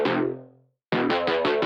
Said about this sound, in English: I do have this interesting sort of filtered version of it that's super low quality with some effects on